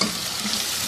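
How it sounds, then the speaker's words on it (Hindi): Ginger-garlic paste being stirred into softening onions and tomato in a hot pan gives a brief, steady sizzle with soft stirring underneath. "मिक्स कर लेंगे"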